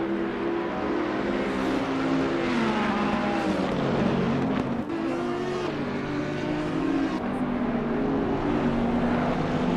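A Ferrari race car's engine in a PS5 racing game at Zandvoort, revving loudly and continuously with rising and falling pitch as it works through gears, steady and close throughout.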